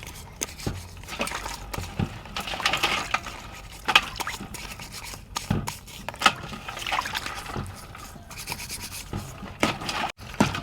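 Sea crabs scrubbed and rinsed with water in a remote fishing village, close irregular brushing scrapes, light splashes and small knocks at a soft level, with no talk.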